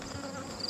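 Honey bees buzz around an open hive during an inspection, a brief steady droning hum, close and continuous.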